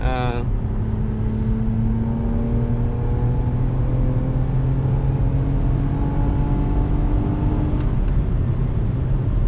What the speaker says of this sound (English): like this car sounds decent. Like, I mean, it sounds like a V6